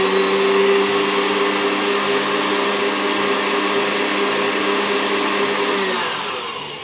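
An electric mixer whisks pink paste colour into Italian meringue buttercream for cupcake icing, a loud steady motor whir with beater hum running continuously before easing off at the end.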